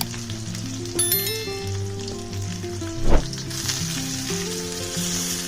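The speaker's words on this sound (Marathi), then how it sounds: "आता उरलेला मसाला वांग्यावर पसरवायचा आहे आणि हा मसाला सुद्धा चांगला परतून घ्यायचा आहे." Masala sizzling in a pan over stuffed eggplants, a steady frying hiss with a brief louder scrape partway through and background tones underneath.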